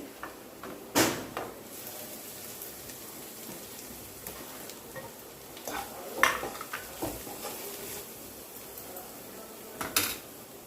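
Chili powder, salt, cumin, fenugreek and coriander powder are stirred into a small-fish curry, with faint scraping and a few sharp clinks of a spoon against the pot spaced through a quiet stretch.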